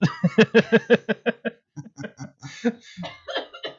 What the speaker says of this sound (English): Can you cough elsewhere?